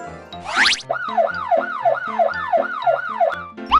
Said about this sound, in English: A police car goes wee-oo, wee-oo, wee-oo.